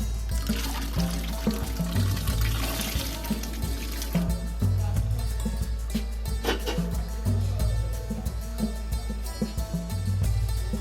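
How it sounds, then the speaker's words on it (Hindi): One kilogram of boiled chickpeas is tipped into a pot of water for degi chana pulao, a soft wet pouring and splashing sound partly buried under steady background music. "अब इसमें हम चने ऐड कर देंगे, जो हमने 1 किलो लिए थे।"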